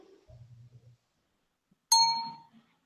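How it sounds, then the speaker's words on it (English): A single bright bell chime rings out clearly and decays over half a second, after a faint low murmur. "And the bell rings."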